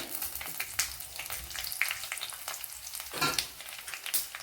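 Dried red chillies dropped into hot oil already crackling with mustard and fenugreek seeds for a Kerala fish podimas, a close, steady sizzle with sharper pops and stirring scrapes and no talking.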